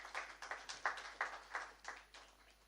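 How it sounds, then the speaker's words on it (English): Quiet, sparse applause for a speaker at a formal event, roughly nine distinct claps in a loose, slightly uneven rhythm, thin and somewhat distant, fading toward the end. "Ladies and gentlemen, please a round of applause for him."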